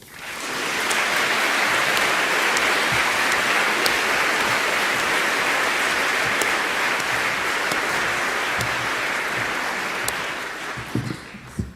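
Sustained audience applause welcoming a speaker to a debate, a dense even patter of many hands clapping throughout, fading with a few scattered claps at the end.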